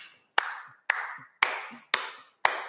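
Five sharp hand claps ring out at an even, unhurried pace during a Kodály-method music lesson exercise, each crisp and close with a short room tail, and a faint voice murmuring between them.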